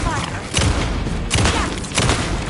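Heavy gunfire in Alan Wake II erupts in loud, booming bursts, three dense volleys in quick succession close up, with a voice speaking under the shots.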